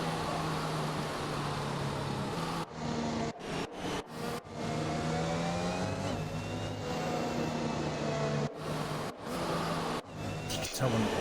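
A racing car engine drones loudly and steadily during a race in the Netherlands, its pitch rising and falling as it revs, with brief dropouts cutting the sound.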